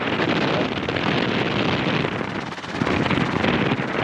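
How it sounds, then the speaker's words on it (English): A loud, roaring gust of wind buffets the microphone near a helipad, dipping briefly midway before surging again, dense and broadband with no voices. "That was a good gust."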